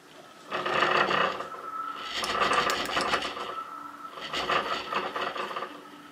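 A closed-loop stepper motor strains to lift a weight, giving three bursts of buzzing, whirring mechanical drive separated by brief lulls, moderately loud and close with no talking.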